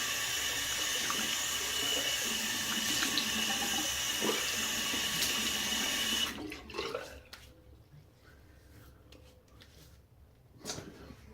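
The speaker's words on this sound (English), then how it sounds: "Let me wash up or wet my face." Tap water runs steadily into a sink for washing up, a broad continuous rush for about six seconds that then stops abruptly, leaving only a few faint drips and small handling noises.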